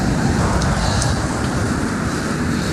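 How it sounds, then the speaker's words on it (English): Strong wind buffets the microphone while mountain biking near the Grand River in East Lansing, a dense, constant low roar and rumble that stays loud and unbroken, with no talk. "That's not the cars at this point. That's just wind."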